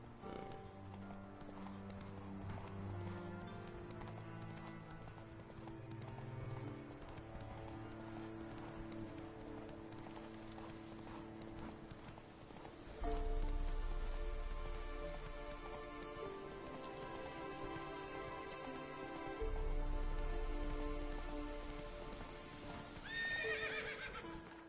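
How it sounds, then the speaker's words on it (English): Horse hooves in rain from the video game The Witcher 3: steady patter of rain with rhythmic hoof clops, a low rumbling surge midway, and a brief neigh near the end, no talk. "Whoa there, Roach."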